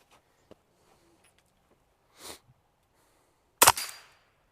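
Two rifle shots from a Ruger 10/22 ring out alone, a softer distant crack followed about a second and a half later by a loud sharp report with a brief ringing tail, amid near silence.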